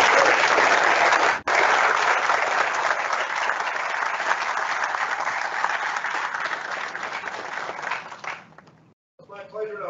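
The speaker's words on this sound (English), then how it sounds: "How about a big round of applause for these baby boys?" Dense, loud applause from an audience at a Navy change-of-leadership ceremony at Southwest Regional Maintenance Center fills the room for about eight seconds, then dies away quickly and a voice begins speaking.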